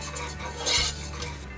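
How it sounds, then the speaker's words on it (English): Risotto rice going into a pan, with a metal spoon scraping and clinking against the pan over a soft steady background, one brief louder rustle midway. "Risotto into the pan."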